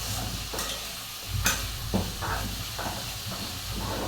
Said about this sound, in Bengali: এই যে সবজিটা নাড়াচাড়া করে দিচ্ছে